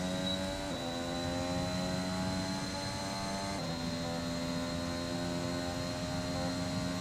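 An F1 2021 racing car engine in the game, a steady high droning whine with harmonic pitch steps that shift as the throttle is modulated, continuous and fairly loud with no talking.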